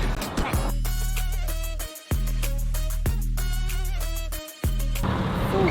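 A BMW fitted with new wheel spacers is driven, producing a loud, steady droning engine hum from close by. The tone drops out briefly twice, much like gear changes, and no one talks.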